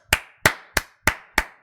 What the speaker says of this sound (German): klatschen, Jungs, klatschen!